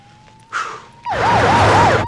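Ambulance siren starts up with a steady tone, then after a brief burst of noise switches to a rapid wailing yelp, loud and close, with no talking over it.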